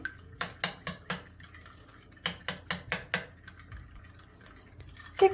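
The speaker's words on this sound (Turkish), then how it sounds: "Önce yumurtalarımızı şöyle hafif kaşıkla biraz açalım." A spoon whisks eggs in a bowl with quick bursts of light clinking strokes, two clusters of rapid taps separated by a pause, close and fairly quiet.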